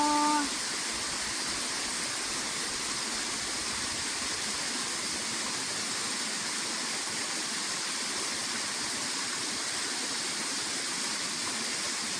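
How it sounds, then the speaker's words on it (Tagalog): Steady rushing water, like a stream or small waterfall, pours continuously at an even level with no other sounds. "Water flowing lang ang maririnig mo."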